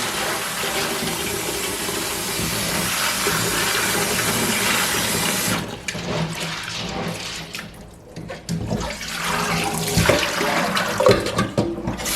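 Dried chickpeas being washed for the pantry under running tap water, a loud steady gush for several seconds, then softer sloshing and rattling as the water is swirled.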